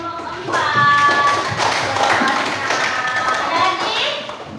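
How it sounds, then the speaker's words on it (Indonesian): Elementary schoolchildren clap together in a classroom, a dense burst of hand claps that keeps going for a few seconds while children's voices chatter over it. "Beri tepuk tangan untuk kelompok 4."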